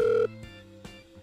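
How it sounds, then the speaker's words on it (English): A telephone ringing in a Minecraft game, two short electronic ring bursts separated by silence, clear and close with no voices over it. "oh, it's ringing."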